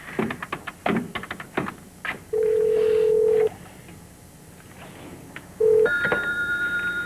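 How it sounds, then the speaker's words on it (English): A telephone is dialed up close: a few quick taps and clicks lead into a long steady keypad tone, then after a pause a shorter one followed by another sustained tone. "I need to call Adam and tell him that I'm not going to make it tonight"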